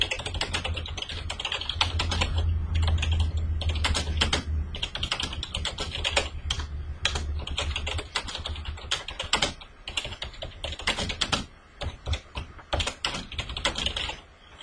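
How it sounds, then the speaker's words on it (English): Rapid, steady typing on a computer keyboard while entering text into a Microsoft Word document, with dense clusters of key clicks running continuously and a few brief pauses, close and fairly loud with no talking. "I want to type some details in this particular file."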